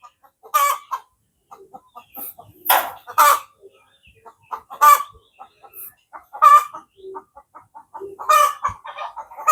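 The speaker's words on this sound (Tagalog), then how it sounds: "Babalik na sa pugad yun, kaya putak ng putak yan." A hen clucking near its nest, a loud close series of sharp, repeated squawking clucks in irregular bursts separated by quieter murmuring calls, with no one talking.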